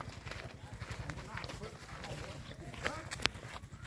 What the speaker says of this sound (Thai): เราจะขี่ม้าค่ะคะตรงนี้นะคะ